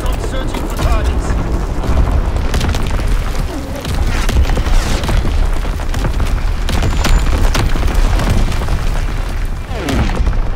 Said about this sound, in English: Dropping Fritz X-bomb! Firing for full effect!